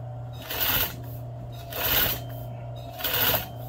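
Domestic sewing machine stitching pleats into fabric, running in three short close bursts separated by brief pauses, with a steady low motor hum throughout.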